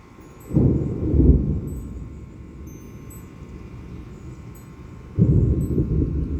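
Deep rumbles of thunder from a severe thunderstorm with close lightning in southeastern Pennsylvania roll in two long, loud bursts separated by a quieter lull, with no talking.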